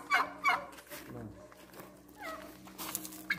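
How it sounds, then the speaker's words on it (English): Village turkeys gobble in short bursts near the start and again at the end, moderately close, while people talk over a low outdoor background. "Is that a very big turkey?"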